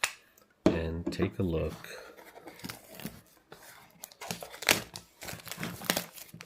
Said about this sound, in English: we will cut this box open